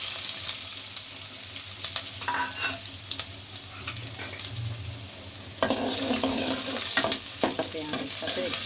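Chopped onion fries in hot oil in a pan for a pasta dish, a loud continuous sizzle with busy stirring scrapes that swells noticeably louder partway through.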